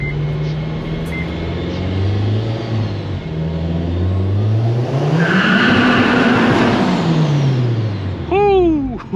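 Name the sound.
supercharged Honda Civic Si accelerating in second gear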